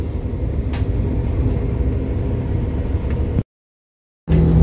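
Steady rumbling rail noise of a moving train running along the Rhine with a constant low drone, cut off abruptly by a brief silence before the rumble resumes.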